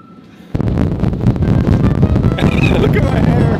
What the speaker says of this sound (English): stronger and more powerful than any wind we have ever experienced